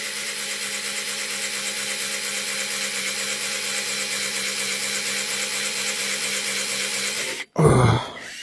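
A drill whines steadily and evenly for several seconds while boring into a steel rail, then stops abruptly with a short clunk and rattle.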